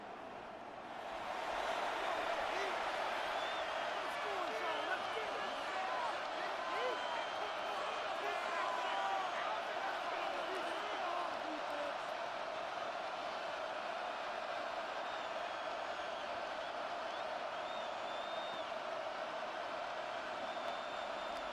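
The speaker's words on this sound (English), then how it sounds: "This crowd trying to be a factor, getting very loud now." Stadium crowd roar in a Madden 26 NFL game between the Packers and Steelers, late in the game: a steady, dense wall of crowd noise that swells loud after a quiet opening second and holds for the whole stretch.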